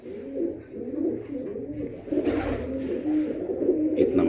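Pigeons coo steadily in low rolling phrases, several birds overlapping close by throughout, with no talk over them.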